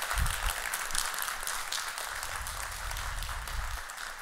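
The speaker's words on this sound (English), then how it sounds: "One applause, please." An audience applauds after a lecture on understanding and managing negative thoughts: a steady, dense wash of many hands clapping, fairly close and sustained for several seconds, easing slightly toward the end.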